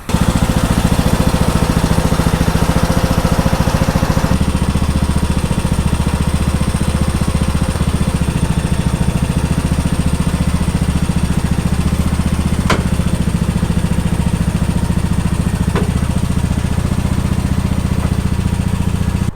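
A small John Deere lawn tractor engine runs steadily and loudly throughout with a low, rumbling drone, shifting slightly in tone partway through, with a couple of faint clicks.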